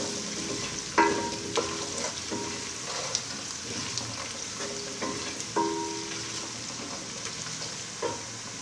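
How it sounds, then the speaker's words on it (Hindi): Red chili powder, turmeric and spices roasting in a pan for matar keema, heard as a steady soft sizzle broken by repeated spatula scrapes and knocks against the pan; no one speaks. "रेड मिर्च पाउडर, हल्दी, मसालों को भी हल्का सा भून लेंगे।"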